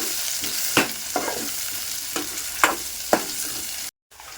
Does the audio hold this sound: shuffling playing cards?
no